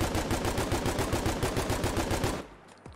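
A BAR automatic rifle in Fallout 4 fires a fast, loud, sustained burst of evenly spaced rounds for over two seconds, then stops with a brief mechanical click.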